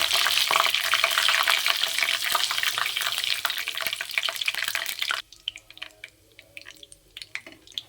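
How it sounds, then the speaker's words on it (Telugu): Urad dal, chana dal, mustard seeds and cumin fry in hot oil, giving a loud, dense sizzle with crackling pops for about five seconds before it drops to quieter, scattered spitting and crackles. "ఆయిల్ హీట్ అయింది. ఇప్పుడు ఉద్దిపప్పు, శనగపప్పు, ఆవాలు, జీలకర్ర వేసుకుందాం."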